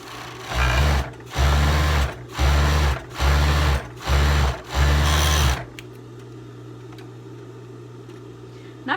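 A sewing machine stitches the collar of a teddy fleece jacket in about five short, loud runs, then stops and leaves a steady low electrical hum.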